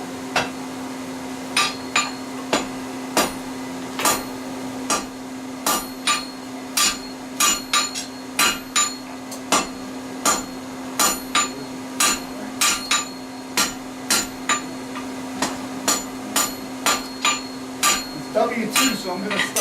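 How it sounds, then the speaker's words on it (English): Hammer blows ring out on a hot W2 steel hunting knife blade at the anvil, dozens of sharp metallic strikes in a steady, fast rhythm with a sustained ringing hum underneath, close and loud. "When you're forging a blade, it's going to be pointier before I do my distal taper"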